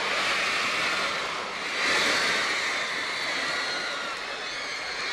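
A dense, roaring crowd of high-pitched screaming voices from thousands of girls aged 8 to 15, loud and continuous, swelling briefly in the middle before holding steady.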